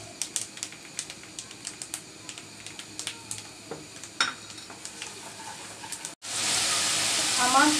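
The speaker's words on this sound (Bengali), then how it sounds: "এটা একটু তেলে ভেজে নিতে হবে" Panch phoron spices fry in oil for a pickle of whole amra fruit. Sparse sharp pops and crackles are followed, after a brief gap, by a loud, dense, steady sizzle close up.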